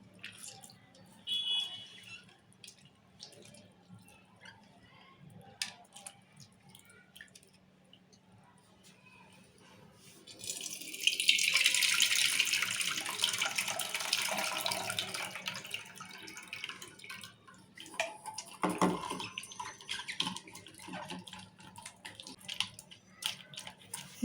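Soaked tamarind water poured into a pot for a raw tamarind broth, a rushing splash that starts midway and runs several seconds, close, with scattered clatter and faint voices around it.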